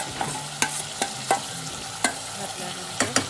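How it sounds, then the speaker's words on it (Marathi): Marinated chicken goes into a hot pan, a steady sizzle running under sharp, irregular clanks and scrapes of a utensil stirring and mixing, close and fairly loud, with no talking. "आता आपण हे मॅरिनेट केलेलं चिकन यामध्ये घालूया"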